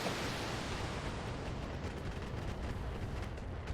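Heavy mech weapons fire in the BattleTech video game: dense, continuous roaring blasts and rumbling barrage, loud and sustained throughout with no speech.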